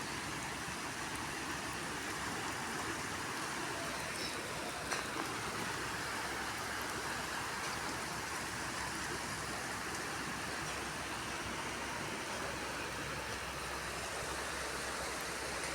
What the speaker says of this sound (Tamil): மழை விடாமல் பெய்கின்றது.